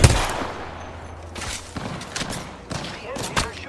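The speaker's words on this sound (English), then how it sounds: "The enemies are shooting at me." Gunfire from enemies in a military shooter video game, several sharp bursts and shots scattered across the moment amid game noise, with a player's voice talking over it.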